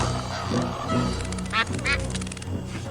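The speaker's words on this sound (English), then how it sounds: "Get away from me! You crazy duck!" A duck in the Escape from Monkey Island video game lets out two sharp, nasal quacks in quick succession, set over a busy game soundtrack with background music.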